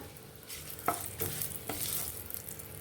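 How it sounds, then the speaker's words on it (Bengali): Torn bay leaves sizzle in hot mustard oil in a pan, a soft continuous crackle broken by three sharp stirring clicks, close by with no voices. "তেলটা গরম হয়ে গেছে আমি এর মধ্যে দুটো তেজপাতা ছিঁড়ে দিয়ে দিলাম"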